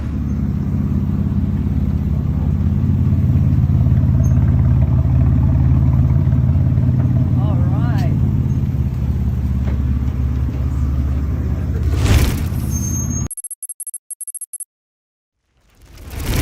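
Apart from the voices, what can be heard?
concept car engine revving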